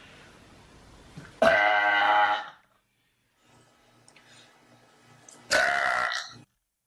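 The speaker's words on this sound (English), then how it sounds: "The burp." Two loud, drawn-out burps about four seconds apart, each lasting roughly a second, close and clear against near silence.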